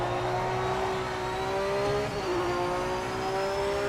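A race car in the Project Motor Racing video game drones loudly and continuously, the engine note holding steady with a slight pitch dip partway through and no talk over it.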